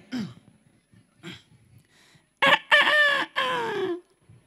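A man on stage at a festival imitates a rooster crowing, with a couple of short throaty sounds first and then a loud, stretched three-part cock-a-doodle-doo close to the microphone.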